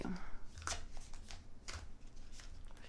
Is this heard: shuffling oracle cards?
yes